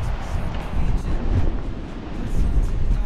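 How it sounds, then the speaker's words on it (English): Gusting wind buffeting the microphone on a Northern California surf fishing beach, a loud low rumbling roar that swells and eases, with surf faintly underneath. "My only complaint today is that it's a little windy"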